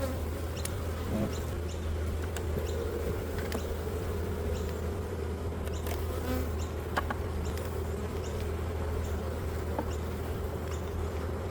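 A dense swarm of honeybees hums continuously around an open green Macquarie hive during an inspection, a steady close buzz with occasional individual bees droning past.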